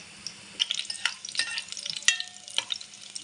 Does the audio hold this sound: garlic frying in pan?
yes